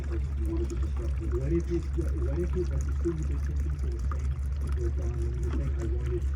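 Liquid cleaning chemicals, mixed as a cleaner and killer, pour steadily into a backyard sandbox, a continuous splashing trickle under a low, constant background rumble.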